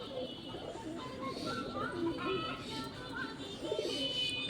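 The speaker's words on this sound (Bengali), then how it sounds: "আমাদের কবিতর গুণা কেমন ডাকছে আপনারা দেখেন" A pair of pet pigeons coo repeatedly in soft, low, rolling calls at close range. The calls sit over a murmur of background household noise.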